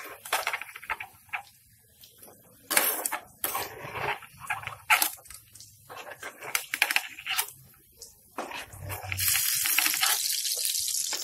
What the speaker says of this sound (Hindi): आप देख रहे हो भिंडी फ्राई होने लगी है।